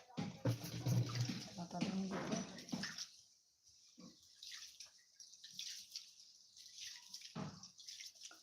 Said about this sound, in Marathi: तांदूळ आता छानपैकी दोन ते तीन पाण्यात धुवून घेते